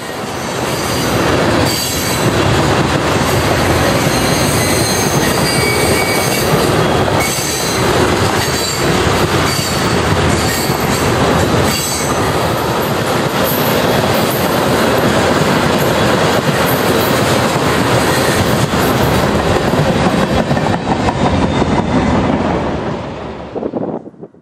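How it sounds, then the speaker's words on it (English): Eastbound Norfolk Southern freight of loaded ethanol tank cars rolls through a curve near Bethlehem, Pennsylvania, on a cloudy winter afternoon, a loud, steady rumble of wheels with squealing flanges and clickety-clack, plus wind buffeting the microphone throughout. "eastbound ethanol loads pass through Wilts Curve in Freemansburg, just east of Bethlehem, Pennsylvania, on a cloudy winter afternoon"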